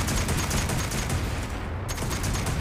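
Rapid semi-automatic fire from a black powder rifle in Fallout 76, a dense, continuous volley of loud, overlapping shots with hardly a pause, close up.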